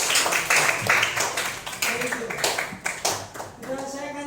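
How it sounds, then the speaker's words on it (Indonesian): Classroom applause for a student during a coding lesson, a short patter of clapping hands from a small group, fairly close, with a teacher talking through it. "kasih aplaus dulu untuk temannya"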